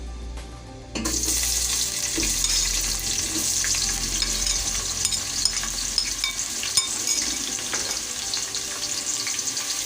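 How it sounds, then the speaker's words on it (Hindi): Chopped onions drop into hot oil and start frying, for a steamed cauliflower (bhaap phool gobhi) dish, with a sudden loud burst of sizzle that holds as a steady close crackling hiss with occasional pops. "ऑयल गरम हो गया, इसमें प्याज डालेंगे।"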